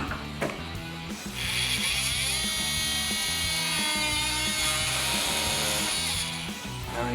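A power tool trims the front bumper shutter of a 2023-2026 Chevrolet Colorado during a DV8 off-road bumper install, giving a steady, loud, grinding whine that runs unbroken for several seconds.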